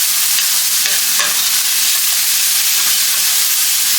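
Garlic, about four or five small cloves, sizzles steadily in a hot pan as it is stirred in, a dense continuous frying hiss with faint scraping, close and alone.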